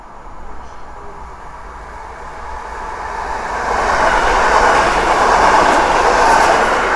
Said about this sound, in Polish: Jedzie kolejny skład Polregio.